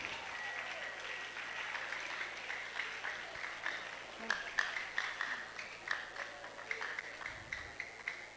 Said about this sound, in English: Put your hands together as I welcome here our mommy, Mrs. Funmilayo, Omonije.